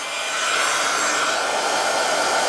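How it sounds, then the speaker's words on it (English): A crafting heat tool blows steadily while drying damp sprayed cardstock, a loud, continuous, even whooshing hum that stays close and alone for the whole stretch. "I'll just use my heat tool."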